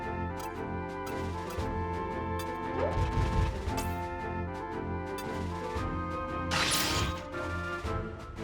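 Mech gunfire from the PS2 video game Front Mission 4, heard as loud, busy bursts of impacts and crashes over dense game music, with sharp bangs near the third and seventh seconds.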